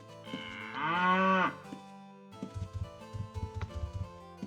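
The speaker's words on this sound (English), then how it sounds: "Lots of cows, though." Cattle in the 1998 video game Ultima Online moo in a long, loud call, followed by a run of soft rhythmic low thumps like hooves or footsteps.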